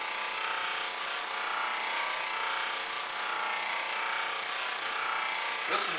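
Cherry wood hollow vase spinning on a lathe while being polished with compound, a continuous broad rushing friction hiss with a faint motor hum underneath, steady and close throughout.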